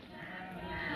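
A herd of goats in Dera Ghazi Khan bleating faintly together for a moment, a soft bleat rising over a low background murmur.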